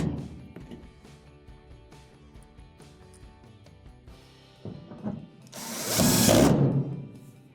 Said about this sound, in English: Get one started and then finish it off with your driver